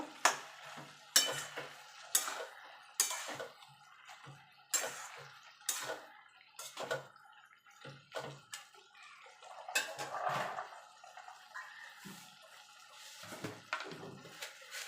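A cabbage, potato and green pea curry is stirred in a pan with a spatula, giving a run of sharp, close scraping and clanking strokes in an uneven rhythm, with a soft sizzle between them.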